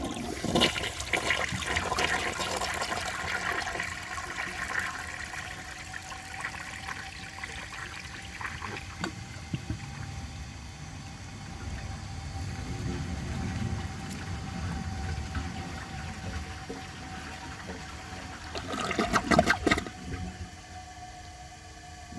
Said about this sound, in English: I'm going to give it another flush and see if it can redeem itself.